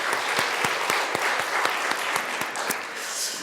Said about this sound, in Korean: 하나님 앞에 우리 영광의 박수 다시 한번 돌려드리겠습니다.